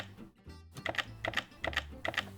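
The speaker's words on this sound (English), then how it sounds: "most of us wouldn't type staring at the keyboard like this." Someone types on a computer keyboard, with clusters of quick, crisp key clicks arriving in several bursts, close and fairly quiet, and no voices.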